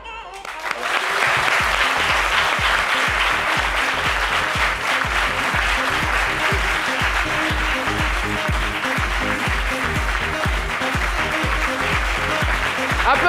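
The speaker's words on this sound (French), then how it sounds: "Applaudissements" A French TV studio audience claps for a couple on a Valentine's Day midday show, with sustained loud applause and a strong rhythmic beat of unison clapping over music running throughout.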